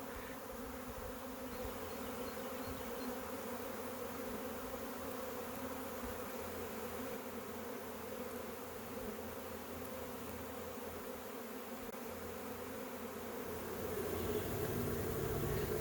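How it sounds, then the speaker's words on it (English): A honeybee swarm hums around a hive near a maple tree. The dense, steady buzzing stays fairly faint and continuous throughout, then swells slightly louder near the end. "Just had a 4th swarm take off, and they've landed in a nearby maple"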